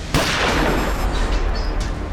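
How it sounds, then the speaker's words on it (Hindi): A single loud gunshot goes off inside a car in a crime drama, a sharp crack followed by a short reverberant decay, with no talking. "अभी अभी गोली चलने की आवाज आई है गाड़ी के अंदर से"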